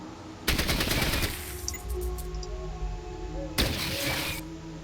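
Two bursts of automatic gunfire spray at a roach in the video game Fallout Tactics, one long volley followed by a shorter one, loud and close over a steady background hum.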